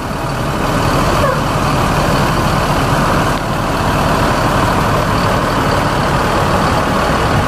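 An ANS executive bus on a toll road gives off a loud, steady engine rumble up close, with a constant low roar and rushing noise that holds evenly for several seconds without a break.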